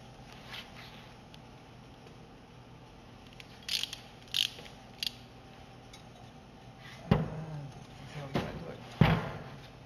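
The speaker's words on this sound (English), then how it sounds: "this needs to be torqued to 41 foot-pounds of torque." A torque wrench ratchets while tightening a bolt on a hybrid remote control mower, with a few quick clicking bursts at first, then louder, sharper ratchet strokes near the end over a quiet background.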